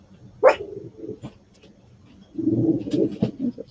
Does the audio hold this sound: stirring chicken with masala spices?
no